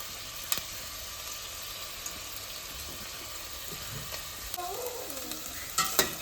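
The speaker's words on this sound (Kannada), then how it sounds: "ಚೆನ್ನಾಗಿ ಫ್ರೈ ಆಗ್ತಾ ಇದೆ. ನೋಡಿ, ಚೆನ್ನಾಗಿ ಫ್ರೈ ಆಗಬೇಕು ಮಾತ್ರ ಟೊಮ್ಯಾಟೊ, ನೀರುಳ್ಳಿ ಎಲ್ಲ." Tomato, onion and green chillies fry in hot oil with a steady close sizzle and hiss, broken by a few spoon scrapes and clinks, with no one talking.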